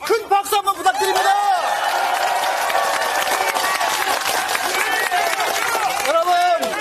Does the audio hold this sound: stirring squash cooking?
no